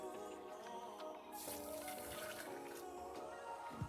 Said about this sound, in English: This is hot water.